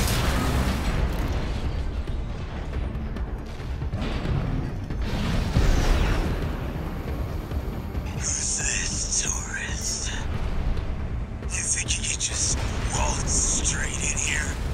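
Cannon fire and explosions in the Armored Core VI mech combat game, a dense rumbling barrage with bursts and booms, a heavy blast midway, then high mechanical whines, with muffled talk underneath.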